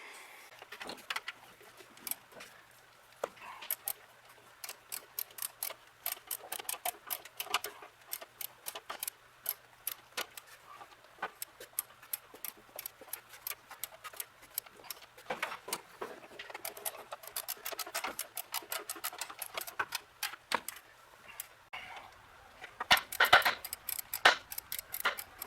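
Mechanic's tools working on motor mount bolts during assembly of a Chevrolet 292 inline-six long block, giving rapid irregular metallic clicks and ticks like a ratchet, close and moderately loud, continuing for the whole stretch with a busier burst near the end.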